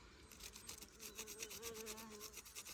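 An abrasive stone is rubbed back and forth over wood heartwood to make it flat, a close, rhythmic rasping of quick scraping strokes.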